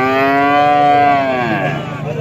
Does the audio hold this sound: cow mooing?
yes